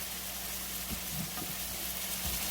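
Peppers, onions and steak meat sizzle hard on high heat for steak subs, a continuous loud frying hiss with a few faint scrapes and pops, no talking.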